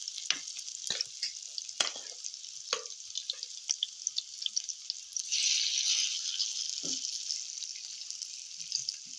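Cabbage nuggets (tortang repolyo) frying in hot cooking oil, a steady close hiss and sizzle with scattered crackles and a few soft knocks, growing louder toward the end.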